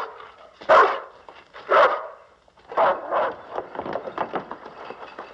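A dog in a 1958 Western film barks several times close by, with sharp separate barks followed by quicker, lighter yips.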